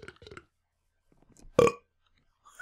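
A creature in a Minecraft mob mod lets out a single loud, close burp, short and standalone, after brief talk and a quiet pause.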